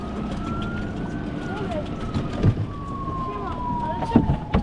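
A passing ambulance siren wails with a slow, steadily falling pitch, moderately distant over a low rumble of water and boat noise, with a few thumps and no talk over it.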